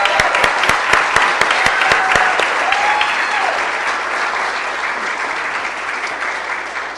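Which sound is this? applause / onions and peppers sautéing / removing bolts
applause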